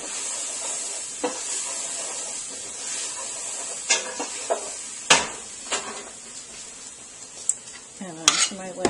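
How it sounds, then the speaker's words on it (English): Butternut squash soup being stirred in a pot on the stove, with soft scraping and occasional clinks of a utensil against the pot over a faint background hiss. "go back over to the stove and give it a stir"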